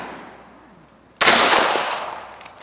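A Sig Sauer MPX 9mm carbine pistol fires a single sharp, loud shot outdoors, followed by a fading echo.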